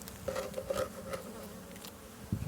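Honeybees hum and buzz around an open hive during a spring inspection, a close, continuous droning with wavering pitch and small taps and rustles of frames.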